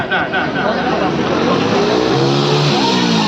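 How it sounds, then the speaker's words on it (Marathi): Motorcycles rev and rumble loudly at the start of a slow motorcycle race at a Navratri festival event, engine drone filling the air while someone talks over it, likely through a loudspeaker. "स्लो मोटरसायकल स्टार्ट चालू करा"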